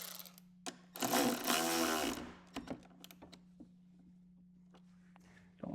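A front bolt on a Harley-Davidson turn signal bracket being tightened with a power tool, one loud close buzzing burst of about a second, followed by light clicks and taps over a steady low hum.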